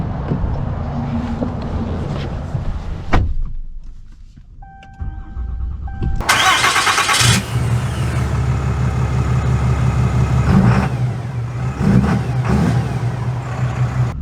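A 2024 Ram Laramie Mega Cab pickup, a loud car interior hum that drops to near quiet with a few soft electronic chimes, then the engine cranks and fires into a steady idle with light revving.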